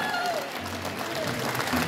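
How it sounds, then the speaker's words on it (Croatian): Applause for the prize winners at the 'Zlatni glas Zlatne doline' 2023 music festival award ceremony, a steady crowd clapping heard under an announcer's voice and background noise. "Još jednom ih nagradite velikim pljeskom."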